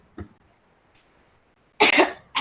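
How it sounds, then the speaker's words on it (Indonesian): A person coughs twice during an online dance-class call: first a short, muffled cough, then after a quiet pause a louder, harsher burst of coughing close to the microphone. "Maaf, saya lagi batuk Bunda."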